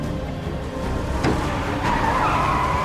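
A car brakes hard in a film chase, tires skidding with a sharp screech that rises and holds over a rumbling engine and road noise, close and loud, no voices.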